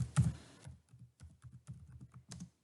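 Someone types a file name on a computer keyboard: a short burst of close, light key taps in an uneven rhythm after one louder opening clack, with no talking.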